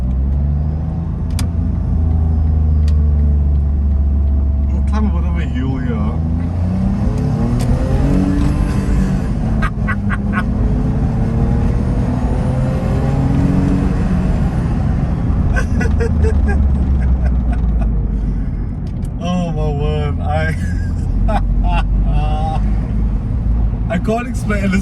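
A Smart Fortwo's small engine strains loudly as the car climbs a hill, its droning pitch rising and falling through gear changes, heard from inside the cabin with someone talking over it.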